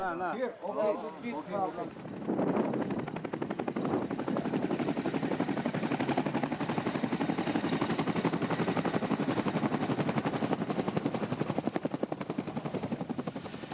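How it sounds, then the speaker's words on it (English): A British Army medevac helicopter's rotor beats in a fast, steady chop close by in Helmand, Afghanistan, loud and continuous, following a few seconds of voices at the start. "The Medivac helicopter took the casualties to Camp Bastion, the main British base in Helmand."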